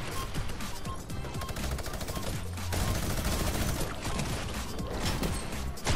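Rapid gunfire in Fortnite rattles in dense bursts and long volleys, loud and nearly continuous across the whole stretch, with no talk over it.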